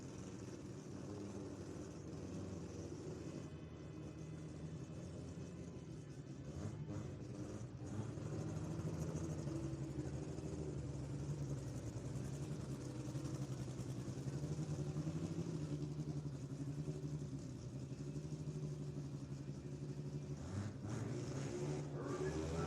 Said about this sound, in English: JR Yoshi Racing with the nice little smoky burnout there left side of the racetrack